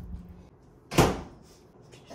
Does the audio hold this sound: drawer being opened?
yes